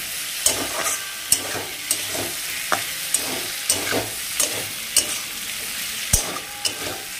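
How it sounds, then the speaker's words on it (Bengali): Grated ginger stirred into a prawn dish frying in a pan: steady close sizzle with a dozen sharp spatula scrapes and taps against the pan at irregular intervals, no voices. "আদাটা আমি এবার দিয়ে দেব। আর তারপরে ভালো করে আমি নাড়াচাড়া দিয়ে নেবো যাতে আদাটা মিশে যায়"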